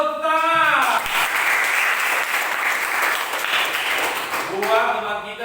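Classroom applause from students during a teaching session breaks out loud and dense, a steady patter of many hands lasting several seconds, with a teacher's voice speaking just before and after it.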